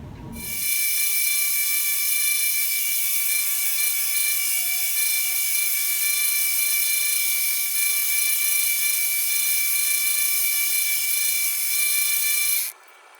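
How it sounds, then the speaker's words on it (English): A belt grinder strips rough casting marks from the handles of rusty pruning shears, giving a loud, steady, high-pitched whine that starts abruptly and holds constant for about twelve seconds before cutting off. "Working on removing the casting marks off these handles."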